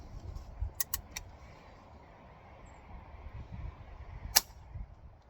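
A suppressed Henry .22 lever-action rifle loaded with CB shorts fires with very quiet, sharp snaps, a few clustered early and one more later over low outdoor background noise.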